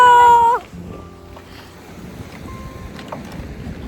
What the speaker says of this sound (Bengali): জলের গর্জন দেখেছেন পাথরের উপর আছড়ে পড়ছে আর কি গর্জন